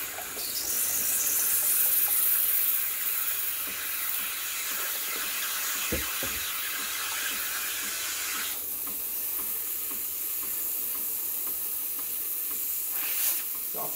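Breville Barista Express BES870 steam wand steaming milk in a metal jug, a continuous airy hiss and gurgle that shifts in tone partway through, with a couple of brief knocks in the middle.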